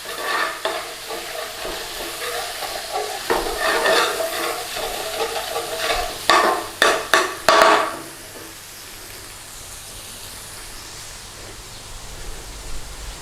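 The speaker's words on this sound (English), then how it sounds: "tomato puree. So stir that around, nice and steady." Tomato puree with garam masala and methi is stirred steadily in a frying pan, a dense sizzling scrape that ends in a quick flurry of loud spoon knocks against the pan before fading to a soft background hiss; nobody talks.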